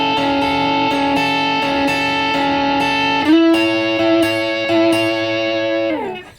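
An electric guitar plays through a Matchless DC30 amp model on a Line 6 Helix, with sustained chords that ring steadily, shift partway through and then fade out, close and loud with no talking.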